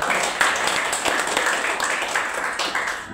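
An audience at a group gathering breaks into applause, a full, continuous patter of many hands clapping at moderate loudness throughout.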